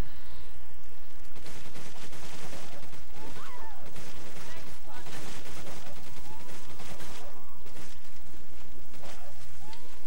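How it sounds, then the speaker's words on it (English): Resident Evil 5 gameplay with a dense, continuous volley of loud gunfire, rapid overlapping shots and booms, and a voice speaking briefly underneath. "I just shot them all full of bullets"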